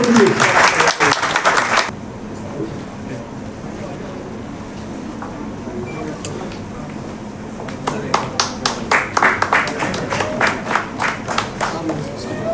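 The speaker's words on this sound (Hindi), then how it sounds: "एक बार जोरदार तालियां बजा दीजिए फॉर बलविंदर सिंह सोढी जी" Audience applause at an award ceremony, a burst of clapping that fades into a quieter stretch with a voice over it, then a rising run of individual claps.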